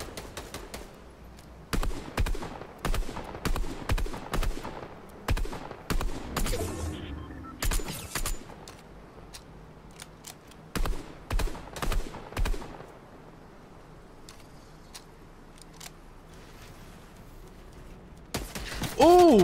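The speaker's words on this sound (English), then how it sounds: "All you have to do is shoot, bro. That's all you gotta do with this gun." AUG rifle fire in Fortnite, with scattered loud shots and clusters of bursts, broken by quieter gaps and then several more volleys, while a voice talks at points throughout.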